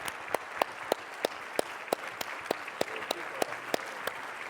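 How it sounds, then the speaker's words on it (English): Fairly faint applause from a crowd, with sharp individual claps punctuating it at a regular pace. "a huge round of applause owed to this guy"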